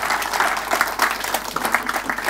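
An audience claps steadily, a dense patter of applause from a moderately sized crowd, continuous and fairly loud throughout.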